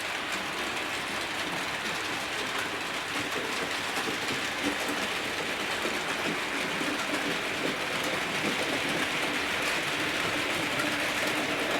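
A Hornby model of the Mallard locomotive runs slowly around its track, giving a steady, even mechanical rattle and faint clickety-clack that continues without a break at moderate loudness, with no talking.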